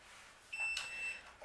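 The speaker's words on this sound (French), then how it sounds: "excusez-moi que ça bip, c'est parce que le bateau n'est pas allumé." A fishing bait boat that is not switched on gives a steady high electronic beep, starting about halfway through and holding for over half a second, with faint background noise and a soft clunk.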